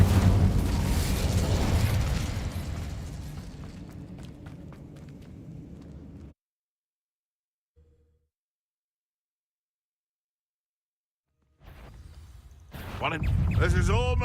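A fire spell cast in Hogwarts Legacy: a loud burst of flame and crackle fades out over several seconds, then near silence before a new burst of game effects.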